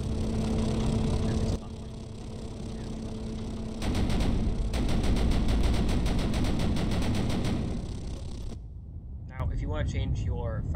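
A tank autocannon in the video game Sprocket, rapid rhythmic bursts of fire over a steady engine hum, with the firing rate shifting partway through, followed by a short stretch of talking.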